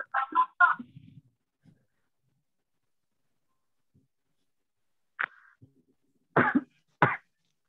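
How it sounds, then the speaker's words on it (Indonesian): Several short coughs and throat-clearing bursts in a quiet indoor room, a quick cluster at the start, then isolated coughs spaced apart with silence between. "Oh, batuk."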